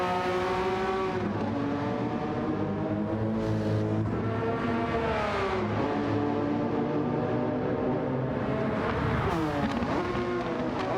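Porsche 996 GT3 Cup race car engine in Gran Turismo 7, loud and close, with rising and falling revs through gear changes and a sharp upshift near the end, steady continuous racing engine sound with no talking.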